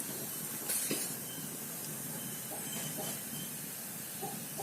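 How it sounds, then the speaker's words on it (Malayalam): Oil goes onto a hot non-stick unniyappam pan, giving a loud, steady hiss that swells briefly near the start and keeps a dense, rough texture throughout. "ആ കല്ല് നന്നായി ചൂടായി വന്നിട്ടുണ്ട് പിന്നെ ഞാൻ ഇതിലോട്ട് എണ്ണ ഒഴിച്ചു കൊടുക്കാം"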